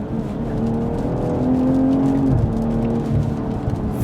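Engine of a BMW 440i Gran Coupe accelerating hard from inside the cabin, a steady droning rev with a quick gear shift dip midway, loud and continuous.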